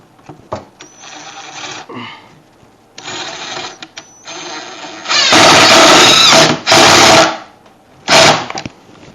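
A power drill drives screws into a wedged floating storage shelf, loud whirring bursts: one long run of about a second and a half, a shorter second, then a brief final zip, with quieter handling noises before.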